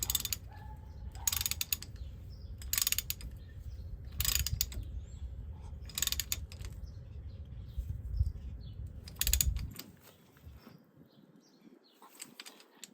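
A ratchet tightening the drain plug on a 1997 Ford F350 rear differential, rapid rhythmic clicking in bursts with low rumble underneath, ending in quieter handling noises.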